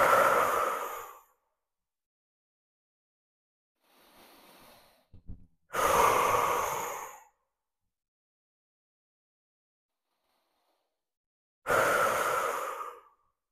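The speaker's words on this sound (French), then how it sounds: "Je prends 3 grandes inspirations et je souffle par la bouche." Three deep, slow breaths are each released as a long, loud exhale through the mouth, spaced apart by silence, with a fainter inhale between, during a calm yoga session.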